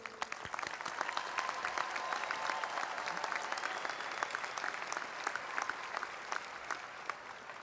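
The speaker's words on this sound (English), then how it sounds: "I'd like to ask for a round of applause for all the parents and guardians in the crowd" An audience at a 2013 commencement ceremony applauds the parents and guardians, with steady, dense clapping from a large crowd that carries on without a break.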